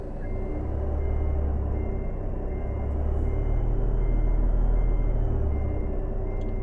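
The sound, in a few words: truck moving off after parking brake release, American Truck Simulator video game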